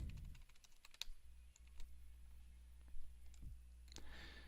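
Text typed on a computer keyboard. Scattered, quiet key clicks come in an uneven rhythm, close and alone over a low background hum.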